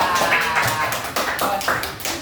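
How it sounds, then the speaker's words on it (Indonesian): Scattered clapping from students in a classroom, a brief round of uneven claps with some voices mixed in, fairly close and moderately loud. "Kasih tepuk tangan guys"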